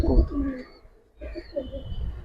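A pigeon coos softly nearby at a pigeon farm, two low rolling calls separated by a brief pause, with faint background noise.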